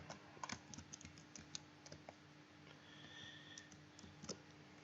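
Keys clatter on a computer keyboard in irregular bursts of close, light clicks, typing out CSS font settings for an HTML page, with no voice over them.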